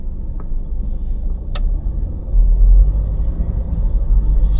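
A car drives on a road near Frankfurt, Germany, heard from inside as a steady low engine and tyre rumble that grows heavier partway through, with a couple of faint clicks above it.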